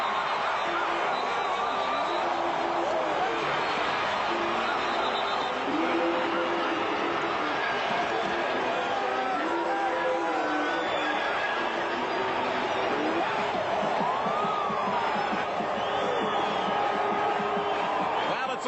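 At Taylor Field during the 83rd Grey Cup, a large pro-Calgary football crowd roars and whoops in a sustained wash of cheering for a touchdown run, with a voice speaking over the din.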